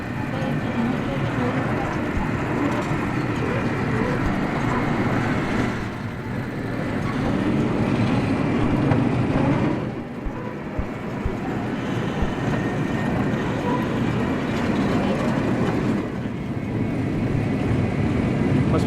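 Fast-moving train in Chiang Mai, a continuous loud rumble and rushing roar heard from onboard, steady throughout with slight swells, and voices talking over it at times.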